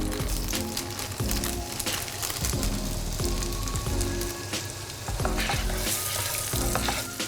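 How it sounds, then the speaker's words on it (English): Mango pieces frying in butter in a hot pan, a steady loud sizzle with crackling spatters and occasional stirring scrapes throughout, no talking. "So I'm gonna cook until it is brown before I'm gonna mash the mangoes."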